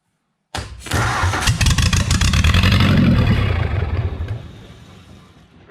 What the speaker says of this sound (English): Throttle's that wide open right now.